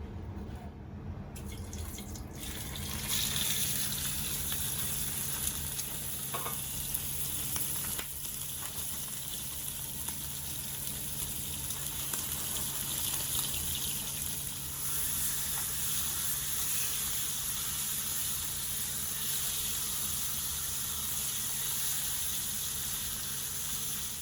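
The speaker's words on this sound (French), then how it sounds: "Il faut que le rognon soit bien saisi, qu'il fasse une belle croûte." Veal kidney sears in a very hot frying pan, a steady loud sizzle and crackle of fat running unbroken throughout, with faint kitchen clatter and no talking.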